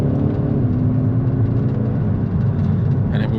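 A 2023 Kia Forte GT with a DCT, its turbocharged engine building boost under acceleration, giving a steady droning whir with a rising engine tone that stays loud and close throughout.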